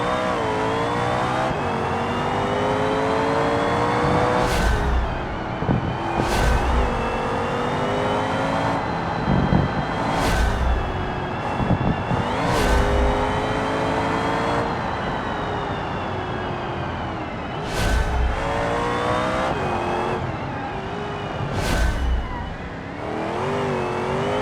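Engine noise from a car in BeamNG lapping a loop, a steady drone with rising and falling revs and repeated sharp bursts, likely gear shifts or tire squeal, as braking heats the front tires; continuous and fairly loud throughout.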